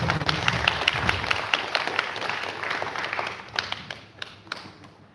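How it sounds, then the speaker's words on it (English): Audience applause at a residential space camp's final day, a brisk burst of clapping that thins into scattered claps and fades out. "please welcome him with a round of applause"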